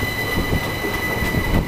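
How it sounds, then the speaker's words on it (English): Class 379 IPEMU battery electric train 379013 pulling away from Harwich International station on battery power, a steady low rolling rumble with faint wheel squeal and constant background hum, no talk. "379013 now, departing from Harwich International on battery power, heading to Manningtree"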